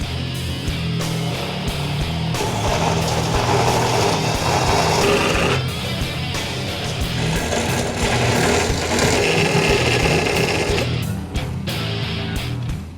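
A power saw set to 22.5 degrees cuts frame rail pieces for a 1964 Mercury Comet AFX, a loud continuous whining drone with changing pitch as the blade bites into the metal.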